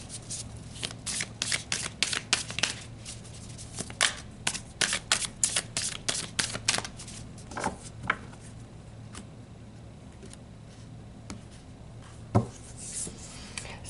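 A deck of cards being shuffled in a quiet indoor room, a run of quick riffling bursts and soft taps with short pauses between them, close and moderately loud, then tapering off into a few scattered card sounds.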